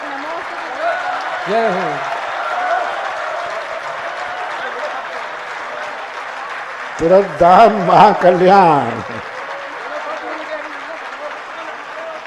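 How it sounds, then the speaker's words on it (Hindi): An audience claps steadily through a Jain religious discourse gathering, a continuous wash of applause under a voice and a brief burst of loud group chanting near the end. "सभी जोर से ताली बजाएं"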